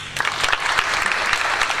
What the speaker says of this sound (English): Please give a round of applause for the performances.